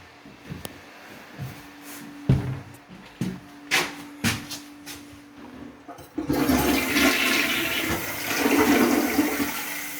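A bathroom toilet with newly finished plumbing, heard first as several clunks and handle sounds, then a loud rushing flush of water that runs steadily to the end, close by and without talk.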